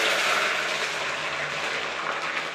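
Curry leaves sizzle in hot oil with fenugreek seeds on low gas for homemade tribal hair oil, giving a steady, loud, close crackling hiss that runs unbroken throughout.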